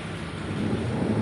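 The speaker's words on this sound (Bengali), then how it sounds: "বাবা, মেঘও ডাকছে" Heavy rain pours in a steady dense hiss while a low thunder rumble rolls underneath, brief and continuous, with no speech.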